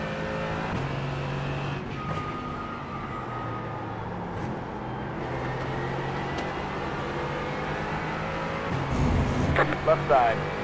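Race cars in a racing game at Watkins Glen, an engine droning steadily with shifting pitch as a faster car closes in and passes, while a driver talks over it.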